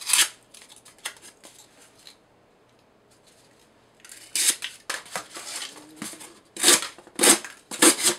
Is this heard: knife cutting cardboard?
yes